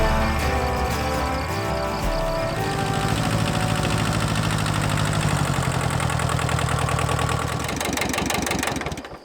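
A tractor engine idles steadily on a homestead, a loud continuous low rumble with a throbbing mechanical rhythm, rising slightly before cutting off near the end.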